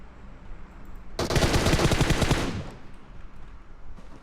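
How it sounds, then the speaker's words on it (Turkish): Automatic gunfire in the mobile battle-royale game PUBG Mobile, a loud sustained burst of rapid shots lasting about a second and a half, then fading into quieter game ambience. "Bir de hiç utanmadan bana sıkıyor ya."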